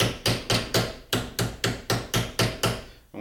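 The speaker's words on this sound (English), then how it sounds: "I'm gonna hammer towards myself with this piece here." A hammer forming a sheet metal flange around a radius on an aircraft rear rib, striking in a steady rhythm of about a dozen sharp, ringing blows close up, with no talking.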